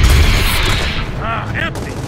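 Gunfire from the Xbox One X video game Gears of War 4, a loud, dense wash of shots and blasts with brief whooshing sweeps sustained throughout.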